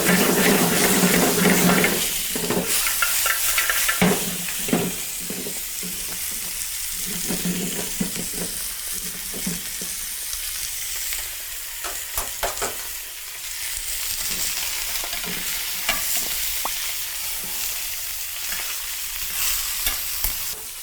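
Bones browning in a very hot stockpot, giving a steady crackling sizzle with repeated stirring scrapes and knocks throughout, close and fairly loud.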